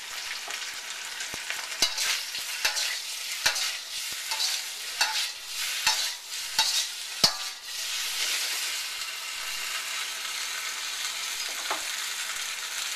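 Jumbo shrimp and scallops frying with salt and pepper, a steady sizzle with a run of crisp utensil taps and scrapes while stirring, settling into even hissing toward the end.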